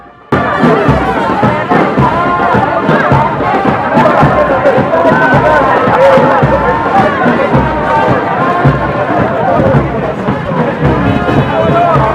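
A large, loud crowd at a political rally in Lubero, a dense continuous roar of chatter and cheering that stays steady for the whole stretch after a brief quiet start.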